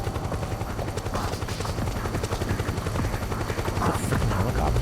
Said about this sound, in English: It's a freaking helicopter.